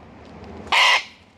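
A wild cockatoo lets out a single harsh squawk at close range, loud and abrupt for about a quarter second, against quiet background.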